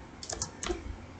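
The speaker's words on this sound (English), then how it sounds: "Let me type also." Quick burst of keystrokes on a computer keyboard, a few close, crisp clicks in a short cluster with light room noise behind.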